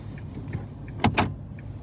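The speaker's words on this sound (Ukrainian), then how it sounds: "ми і так вікно відпустимо" A car's power window motor hums briefly inside the vehicle, a short soft whir with a couple of small clicks, faint and close with no talk.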